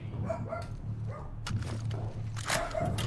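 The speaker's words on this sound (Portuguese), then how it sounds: "Até o Buddy tá latindo ali de nervoso." A dog named Buddy barks nervously in The Last of Us Part II, with short yips and barks scattered over a steady low game hum and some background noise.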